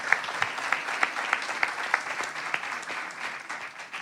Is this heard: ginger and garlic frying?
no